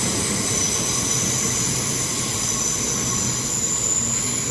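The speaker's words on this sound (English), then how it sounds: "Now heading off is 387-131 with the 12:57 Heathrow Express service to Heathrow Terminal 5." Class 387 Heathrow Express unit 387-131 departs London Paddington, a loud, continuous close rumble of rolling stock with sustained high-pitched wheel squeal over it and no voices.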